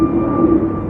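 A jet airliner passes at London Heathrow airport with a loud, steady engine roar and a sustained tonal whine through the whole short moment.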